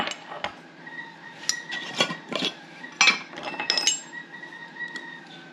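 A metal teaspoon clinks repeatedly against a jar and cup while lavender is measured out for herbal tea, with irregular light chinks and scrapes at close range.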